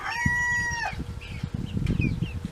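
Several chickens cluck and a rooster gives a short crow close by among young chicks, with rustling and scratching in the background.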